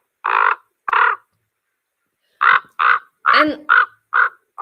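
Ravens give a series of deep, gravelly, raspy croaks mixed with purring notes, about seven short calls in close succession with a gap in the middle, loud and near.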